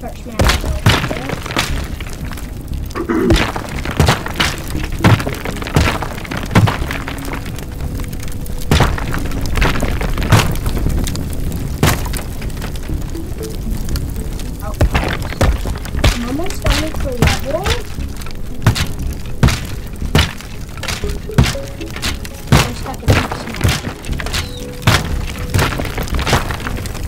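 Voxel destruction in the video game Teardown, with repeated booms, cracks and shattering thuds of structures and a car being smashed, dense and continuous, while a person talks over it.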